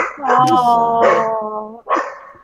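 A pet dog at home lets out loud, close, harmonic barks and yips, several vocalizations in quick succession followed by one more short bark after a brief pause.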